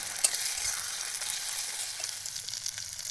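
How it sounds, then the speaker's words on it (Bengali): Ginger and garlic paste frying in a pan during village-style outdoor cooking, a faint steady sizzle with soft stirring scrapes and a small clink near the start. "আদা বাটা রসুন বাটা দিয়ে দিলাম একটু নেড়ে করে নিন"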